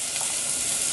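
Onions and tomatoes sizzle in a tablespoon of olive or cooking oil, a brief, dense, steady hiss of frying heard up close.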